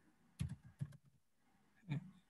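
A few soft keyboard taps in two brief clusters with a quiet gap between them, close up and faint, with no voices.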